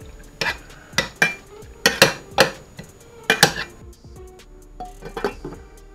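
Cherries being stirred with sugar water and lemon juice, a spoon clinking and scraping against the bowl in a run of sharp, close knocks with brief pauses between them.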